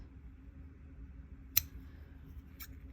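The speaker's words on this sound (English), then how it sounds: "make sure you grab some scissors and cut into the lines" Scissors snip felt while trimming lines for craft tassels, two sharp isolated clicks about a second apart over a faint quiet room hum, close by.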